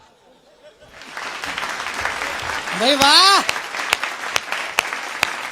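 An audience at a comic Hindi poetry recital claps in applause that grows and then continues, with a voice speaking over it and sharp individual claps standing out.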